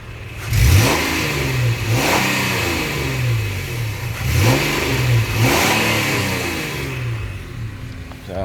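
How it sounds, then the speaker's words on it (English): A 2013 Nissan Xterra 4WD with the 3.5 engine is revved several times, each blip rising sharply and falling back to a steady idle, close and clear with no talking. "First I'm going to rev it so you can hear it rev up."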